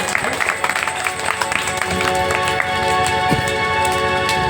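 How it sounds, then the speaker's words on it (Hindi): An audience claps loudly during a Hindu religious discourse on the Bhagavata Purana: a sustained burst of many hands, dense and continuous, with a crowd murmur and a voice over it. "जोरदार ताली बजा करके"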